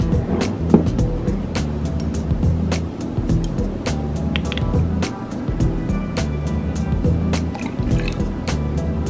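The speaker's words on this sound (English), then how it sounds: "So now I will add 2 tablespoons vanilla" Liquid vanilla poured into a cake mixture for a Jamaican Easter spice bun, a steady close dripping and trickling with small splashes that runs for several seconds over a low kitchen hum.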